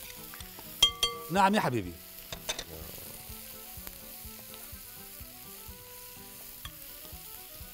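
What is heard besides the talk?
stirring chicken and peppers with sauces in a hot pan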